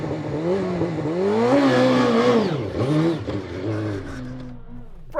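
A Suzuki GSX-R1000 motorcycle revs hard on an off-road course, its engine note climbing and falling in surging sweeps, loud and close, trailing off with a brief clatter at the end.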